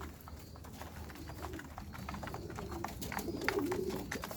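Racing pigeons coo softly inside a loft, low repeated calls under a steady background hum, with faint tapping and shuffling noises around them.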